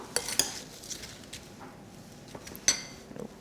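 Ingredients for a pavlova topping, including brown sugar, cinnamon, corn flour and a pod, are tossed together in a dish, giving quiet clinks and scrapes of a utensil with a few sharper knocks.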